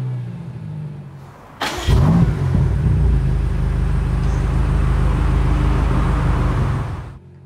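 A BMW M5 CS engine roars up loudly after a short quiet moment, its deep exhaust note holding steady for several seconds before cutting off.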